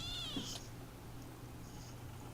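A kitten gives a single faint, high meow near the start, followed by quiet background hiss.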